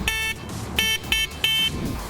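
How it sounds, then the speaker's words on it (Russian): A short electronic horn on a CityCoco 3000W electric scooter beeps three times in quick succession, each toot bright and buzzy, close by against a steady low hum. "Еще ниже кнопка клаксона."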